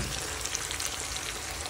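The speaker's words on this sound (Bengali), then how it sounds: "এখন এটাকে ভাজা ভাজা করব।" Ilish fish frying in a pan, giving a steady, dense sizzle that stays even and fairly loud throughout, with no voices.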